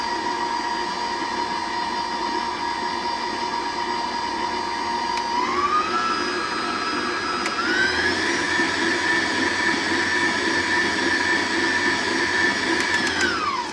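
Stand mixer beating cake batter with flour for a from-scratch Sock It To Me cake, a loud steady motor whir that rises in pitch twice as the speed increases and then winds down at the end, with no talking.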